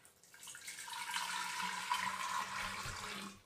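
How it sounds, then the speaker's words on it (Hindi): RO-purified drinking water poured into a clay pot (matka), a steady close-up rush and splash of flowing water lasting a few seconds before tapering off. "अब इसमें हम आरओ का पानी डाल देंगे।"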